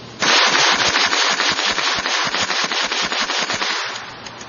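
A Gatling gun firing a long rapid burst of sharp, evenly spaced shots outdoors, loud and continuous for about four seconds before trailing off.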